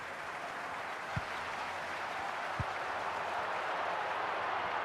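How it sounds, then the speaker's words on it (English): Stadium crowd in the FC Mobile football video game, a steady broad roar of cheering with a couple of brief sharp thumps, held at an even, moderate level throughout. "The crowd certainly think so. Just listen to that noise."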